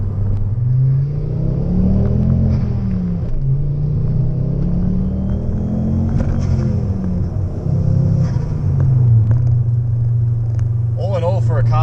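A 2008 Ford Focus XR5 Turbo with 210,000 km on it rumbles steadily while driving, its engine and exhaust note rising and falling with throttle, heard close under a voice.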